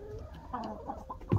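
A chicken clucks while being fed by hand, giving several short close clucks and soft fowl calls in a steady run, with a louder burst near the end.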